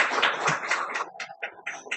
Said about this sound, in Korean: 우리 박수로 환영하겠어요